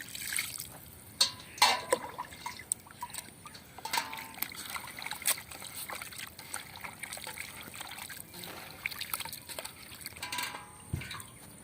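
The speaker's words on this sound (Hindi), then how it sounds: "तो दोस्तों अभी हम तवे पे पानी डालते हैं" Water poured onto a hot tawa griddle in a village kitchen, before chicken goes on for a tawa chicken handi: a steady trickling, splashing wash of liquid with scattered crackles and sharper spits throughout, at close range and moderate level.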